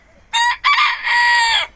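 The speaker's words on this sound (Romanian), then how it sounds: "Un cocoșe, mă." A rooster at a zoo gives a loud, close crow in two bursts, a short first call and then a longer drawn-out one, with no talk over it.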